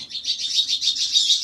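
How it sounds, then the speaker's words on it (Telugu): Birds chirping in a dense, continuous chorus of high tweets, fairly close and steady, with no voices. "చూసుకోండి కాస్త పక్షులు సౌండ్ ఇబ్బందిగా ఉంటుంది మీకు"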